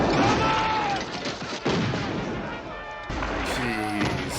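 Heavy booming cannon blasts with rumbling battle noise from the film Glory (1989), steady and loud throughout, with some voices underneath.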